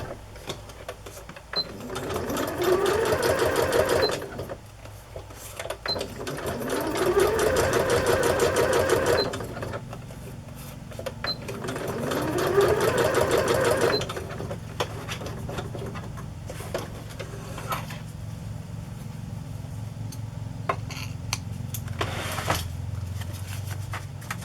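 A sewing machine runs a straight stitch while embellishing a rustic handmade journal, whirring in three slow, steady bursts of a few seconds each with pauses between, then faint handling sounds.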